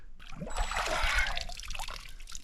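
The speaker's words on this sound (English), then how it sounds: "Came down here to get water at East Chairback Pond." Water trickles and splashes softly as it is collected at East Chairback Pond in the Maine woods, a faint gentle dribble close by with no talk.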